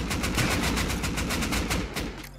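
Rapid automatic gunfire in the game Rust aimed at a turret, a dense, loud, continuous stream of shots lasting the whole stretch.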